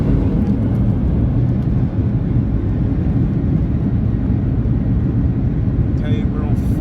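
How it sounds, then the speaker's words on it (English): Loud, steady broadband roar of a Ryanair Boeing 737-8AS with winglets at full takeoff power departing Stockholm Skavsta Airport, heard from inside the cabin as a constant dense rumble throughout. "Okay, we're on full power."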